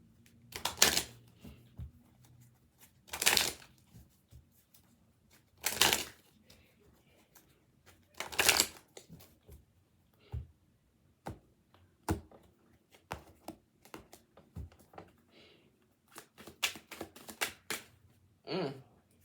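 Tarot cards are shuffled and drawn by hand, heard as several sharp riffling bursts followed by softer taps and flicks of single cards. The sounds are close and fairly quiet, with faint murmuring between them.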